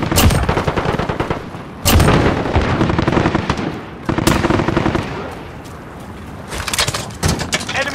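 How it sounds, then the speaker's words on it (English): An automated sentry gun firing in Call of Duty: Modern Warfare, loud rattling bursts of rapid gunfire with sharp cracks, broken by short pauses and an ongoing backdrop of combat noise. "Got a sentry gun on station."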